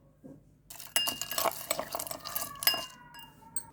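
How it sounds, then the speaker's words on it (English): Ice cubes tumble into a glass for a soda water drink made with mint, lemon and spices, a close, bright run of clinks and rattles lasting a few seconds before settling into a few last taps. "ice cubes,"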